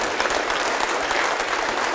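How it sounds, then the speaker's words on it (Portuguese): Dense applause from a church congregation fills the moment, loud and continuous, a brief burst of many hands clapping together with a faint murmur of voices. "vamos aplaudir ao nome do Senhor."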